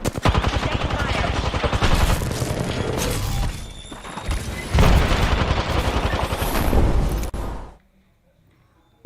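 Rapid gunfire and explosive bursts from a video game battle, dense and loud for most of the stretch, with a brief lull midway, then cutting off abruptly into near silence.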